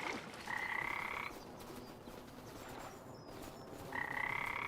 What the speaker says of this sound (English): You hear frogs, but you don't see them.